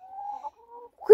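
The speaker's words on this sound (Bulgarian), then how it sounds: "Ето ги моите кокошки" Backyard hens at a village home give a brief, soft clucking call up close, a short wavering note followed by a quieter murmur and a sharp click at the end.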